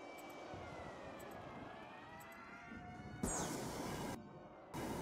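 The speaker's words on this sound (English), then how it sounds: "Tell me what time you hear the siren." A faint wailing siren in a zombie video game sweeps slowly up and down in the distance, with abrupt bursts of rushing noise cutting in near the end.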